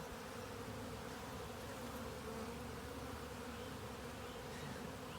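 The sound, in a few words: honeybees buzzing during hive inspection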